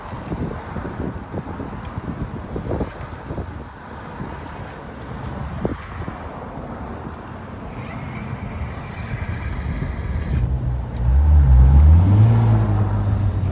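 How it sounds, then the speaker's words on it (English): An electric bike's motor whirs up when the throttle is turned outdoors. Wind and distant traffic fill the background before a loud, rising mechanical whine swells near the end. "If I turn this throttle, it'll go."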